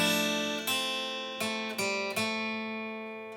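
Guitar picks the melody of a song, a handful of clear plucked notes left ringing and slowly decaying, close and unaccompanied with no voice.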